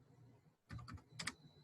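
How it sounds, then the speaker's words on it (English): Two short bursts of typing on a computer keyboard, a quick cluster of clicks followed by another after a brief pause, faint and close over a quiet background hum. "And if you're typing on your keyboard, please mute yourself."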